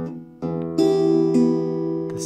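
A few plucked fingerstyle guitar notes from the fourth part of the STALKER theme ring out close and clear, each left to sustain, with no voice.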